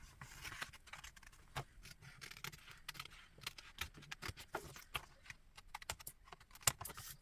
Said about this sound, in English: I have to rely on my scissors.